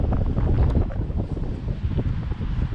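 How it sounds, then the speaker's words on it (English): Intense wind roaring across the microphone on a rotating amusement ride, a loud continuous buffeting rush with no voices. "This is the most intense wind ever"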